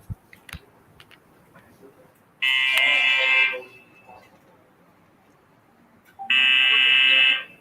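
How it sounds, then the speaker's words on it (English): An electronic buzzer at a panel discussion sounds twice as a time-remaining signal. Each tone is a loud, steady blast of about a second, separated by a few seconds of near-quiet with scattered small knocks. "I'll just play the buzzer."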